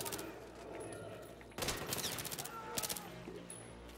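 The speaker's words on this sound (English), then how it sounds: "Is he shooting a shotgun at me? I think he was shooting a shotgun." Gunfire in the game Battlefield 3 during a night mission, bursts of rapid shots that break off, then a louder dense volley of cracks, close and sharp.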